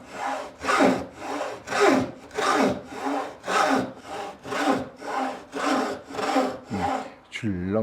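Traditional Korean hand saw cutting through wood in steady back-and-forth strokes, about a dozen even rasping pulses close up and loud, ending with a brief metallic ring from the blade.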